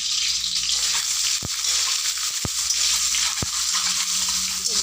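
An egg fries in a pan with spices, giving a steady, loud sizzle throughout, broken by three sharp taps spaced about a second apart.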